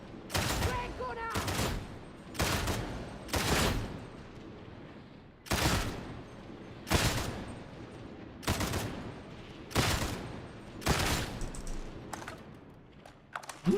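Vrax headhunter gunfire in Darktide, about a dozen loud, sharp single shots spaced roughly one to one and a half seconds apart, each with a short echoing tail, and some quiet clicking between them.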